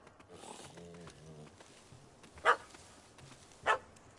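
A dog barks twice in The Witcher 3, two sharp, well-separated yaps standing out over a quiet game background, with faint voices talking at the start.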